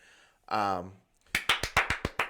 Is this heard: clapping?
yes